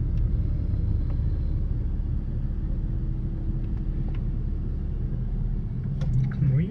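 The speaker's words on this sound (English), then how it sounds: "Crazy, crazy traffic." Cars streaming through busy nighttime traffic in St. Augustine, heard from inside a moving vehicle as a steady low road rumble with faint passing swishes and no talk.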